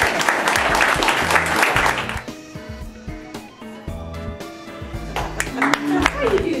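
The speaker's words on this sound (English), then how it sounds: "Give him a round of applause." An audience breaks into loud applause that fades after a couple of seconds, as music with a steady bass rhythm and people talking carry on underneath.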